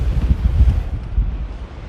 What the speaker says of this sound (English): Wow, it is very windy up here